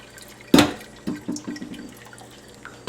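Water poured from a pot while harvesting and processing celery: a sharp splash followed by a few gurgling glugs and drips, close and quiet, with no talk.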